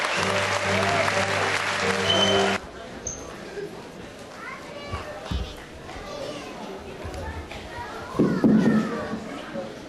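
An audience at a Turkish municipal disability-day event applauds as a mayoral candidate comes on stage, dense clapping for a couple of seconds that stops abruptly, followed by murmurs, children's voices and a brief later burst.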